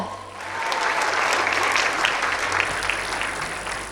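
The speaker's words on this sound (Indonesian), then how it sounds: "Tepuk tangan yang meriah untuk Ainun Kamsun." An audience at an anniversary event claps loudly and continuously, with a sustained burst of applause throughout.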